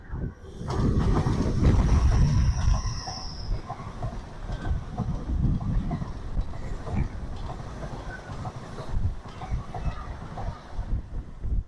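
A train rumbles past near a tunnel on a coastal walk, loud and close at first with broadband roar and rattling, then fading into a steadier rolling clatter and wind noise; no talking.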